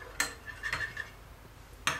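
A spoon scoops ingredients for a homemade vitamin E cream eyeshadow, giving three short, sharp clinks against a container, spaced apart with quiet between them.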